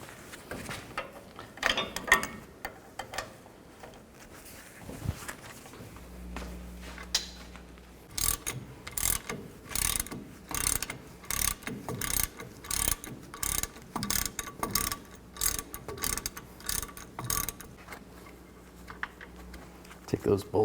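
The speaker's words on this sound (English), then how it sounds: "Use an 18mm socket and loosen up the caliper bracket bolts." A ratchet with an 18mm socket works loose the caliper bracket bolts on the rear brakes of a 1999-07 Chevy Silverado 2500, giving long runs of rapid, close clicking that follow a short stretch of low humming and handling noise.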